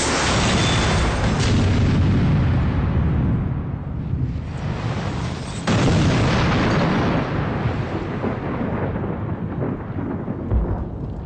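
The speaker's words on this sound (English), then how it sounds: "We finally had a very aggressive ignition" A spark sets off a fuel vapor explosion in a test chamber: a loud, roaring blast that rumbles on for seconds before a second surge of roaring and a slow fade.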